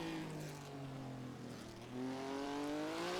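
A 1967 Formula 1 race car in a sim racing game accelerates uphill on the Thomson Road circuit, its engine note climbing in steady harmonic sweeps. It dips briefly for a shift, then rises again, loud and continuous with no talk.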